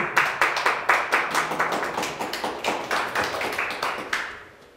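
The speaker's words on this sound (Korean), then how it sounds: "박수 한번 쳐드려요." A small audience at a cultural heritage training lecture claps for a speaker, distinct individual claps in an uneven rhythm, close and fairly light, thinning toward the end.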